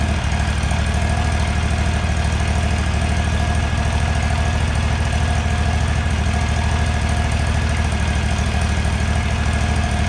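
Kawasaki FS481V engine on an Exmark Metro 36 mower idling steadily at close range, a loud, even mechanical drone with constant low throb and no variation throughout.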